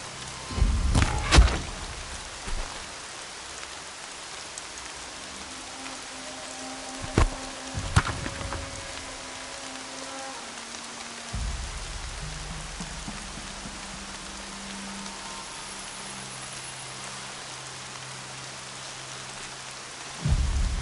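A thunderstorm in the video game Horizon Zero Dawn: steady rainfall patters over the whole stretch while a low rolling rumble of thunder swells early and again near the end, with no talking.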